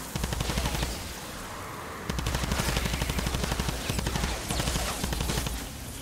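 An automated turret in Fortnite: Save The World fires rapid bursts of gunfire at enemies, loud rattling volleys broken by short pauses, with no voices.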